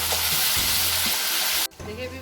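Tomatoes are added to browned frying onions in a pan for chicken biryani. A loud, close, steady sizzle carries stirring scrapes and then drops sharply near the end before settling into a quieter fry.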